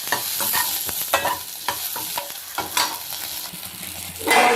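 Brinjal pieces frying in oil in a kadai, a crackling sizzle broken by repeated scraping and clinking of a spoon stirring against the pan, close and fairly loud.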